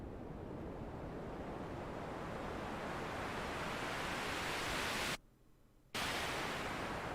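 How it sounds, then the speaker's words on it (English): A dense, steady wash of synthesized noise sweep made in FL Studio 20, like rushing surf, that holds loud, cuts out abruptly for a moment near the end, then resumes. "This is how I usually like to make my sweep sounds."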